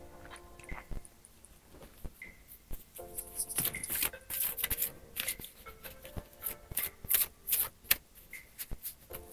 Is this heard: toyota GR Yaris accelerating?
no